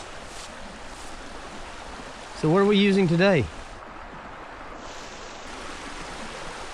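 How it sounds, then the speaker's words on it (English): A flowing mountain stream at a water source on a hiking trail, rushing steadily and close throughout, while a person asks a short question partway through. "All right, so we have reached our water source."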